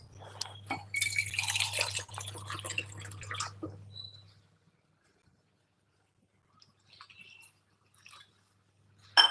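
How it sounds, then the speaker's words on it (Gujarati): Water pours and splashes up close for a few seconds into a ground spice paste, then near silence with a few faint clinks and drips. "હવે એમાં આપણે પાણી ઉમેરશું"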